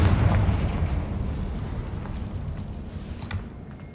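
In the video game Hogwarts Legacy, a Confringo fire-blast spell bursts as a deep, rumbling explosion that decays over a few seconds, with a few faint crackles as it fades.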